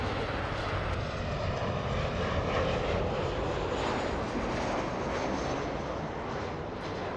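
A Southwest Airlines jet landing on runway 24 right at LAX gives a steady, loud broadband roar of engines and rushing air that holds for several seconds without talk.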